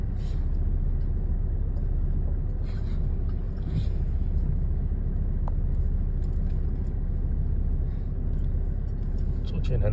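A 2022 Toyota Hilux crawling slowly uphill in low four-wheel drive: a steady, loud low engine and drivetrain rumble heard from inside the cab, with faint creaks and knocks over it and a person talking throughout.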